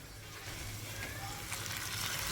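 Onion and tomato frying in oil in a home kitchen pan, a soft steady sizzle that stays low and continuous throughout, with no one speaking.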